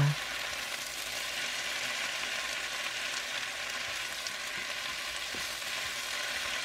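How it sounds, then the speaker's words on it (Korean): Spinach stir-fried in a pan with garlic and cucumber over medium heat gives a steady, even sizzle and hiss that runs unbroken throughout, with no voices. "손질한 시금치를 넣고 골고루 볶아주세요."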